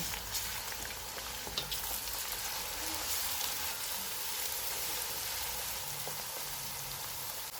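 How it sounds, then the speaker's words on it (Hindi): Steady crackling sizzle of ginger garlic paste frying in a hot pan, continuous and close, with a few faint clinks and no voices. "2 टेबल स्पून अदरक और लहसुन का पेस्ट डालेंगे। इनको 1 मिनट तक भूनेंगे।"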